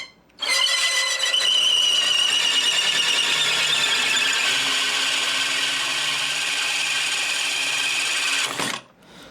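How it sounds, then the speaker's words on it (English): A spot facer chucked in a handheld drill cuts a truss rod channel into a wooden guitar neck, giving a loud, steady high whine with a squealing edge that starts abruptly, holds for about eight seconds, then stops. "I got my spot facer, and it's just chucked up in a drill"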